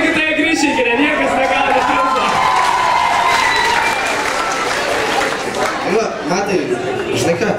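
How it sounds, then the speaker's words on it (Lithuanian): Enthusiastic applause and cheering from an audience greeting a star guest at a school christening party, a dense, steady wash of clapping with shouts and whoops that runs throughout, with voices mixed in. "Pasitikime dideliais aplodismentais mūsų žvaigždė!"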